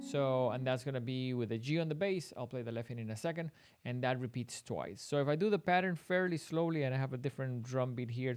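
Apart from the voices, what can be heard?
No everyday noises stand out.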